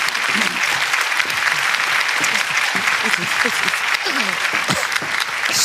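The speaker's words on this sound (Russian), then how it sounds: "Прошу вас, Дина, вам аплодисменты" Studio audience applause on the Russian game show Сто к одному, loud and continuous clapping from a full crowd, with faint voices mixed in beneath.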